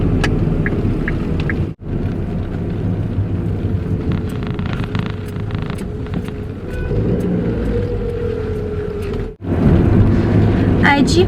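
Steady low rumble of road traffic heard from inside a car in holiday-season congestion, a constant engine and tyre drone that carries through the whole stretch with a couple of brief cutouts.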